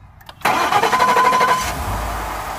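A Ford F-150 pickup fitted with a Spectre 9976 cold air intake cranks briefly and its engine catches, rising to a loud close roar before settling into a steady idle.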